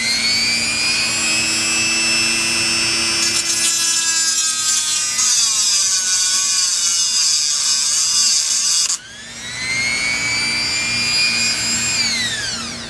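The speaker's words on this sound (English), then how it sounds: "you're going to just cut basically the threads off on one side, move it 90 degrees, and then cut the threads down to the metal." A power tool cuts the threads off a metal lead screw with a loud, continuous high-pitched whine whose tone shifts and wavers as it bites the metal. It drops briefly before spinning back up and then fades.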